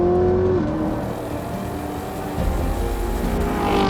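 Chevrolet Corvette ZR1 with ZTK package, its supercharged engine dominated by exhaust note rather than induction whine, heard as a steady loud drone that shifts and swells partway through.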